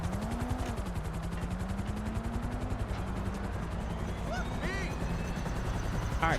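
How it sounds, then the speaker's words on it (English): A helicopter arrives in the video game GTA Online: steady rapid rotor chopping throbs throughout, with a low engine whine that shifts pitch, loud and close. "other chopper shows up"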